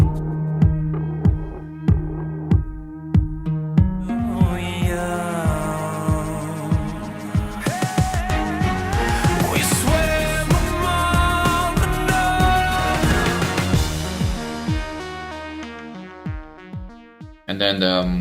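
A song plays as a recording, opening with sparse pulsing beats, then building into a loud, dense band mix with a voice singing before it thins out at the end.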